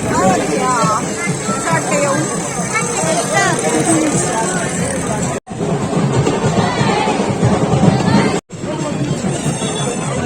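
A busy crowd at an urus fair, dense babble of many voices with children shouting and talking close by, continuous and loud apart from two brief dropouts.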